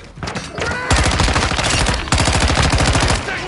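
Rapid SMG fire in Call of Duty: Modern Warfare 2: two loud, sustained automatic bursts with dense, regular shot rhythm, the second starting after a brief dip, filling the whole stretch close up.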